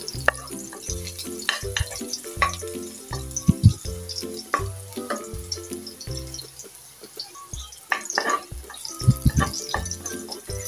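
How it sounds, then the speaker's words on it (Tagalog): Garlic sautéing in hot oil in a pan until golden brown, a steady close sizzle with crackling pops and intermittent stirring scrapes throughout, with faint background clatter and no talk. "gigisa po muna natin yung ating bawang hanggat mag golden brown"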